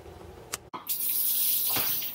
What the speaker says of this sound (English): So I'm gonna run cold water over the top